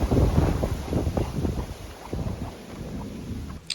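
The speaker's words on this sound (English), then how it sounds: "I know, it's windy, isn't it?" Wind buffets loudly against the microphone in rumbling gusts on an allotment plot, strongest at the start and easing slightly, with no voices.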